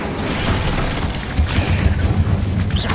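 A fiery Incendio spell cast in the Hogwarts Legacy video game on PS5, a steady roaring whoosh with low booming bursts that build and pulse over the final half, loud and continuous with no talk.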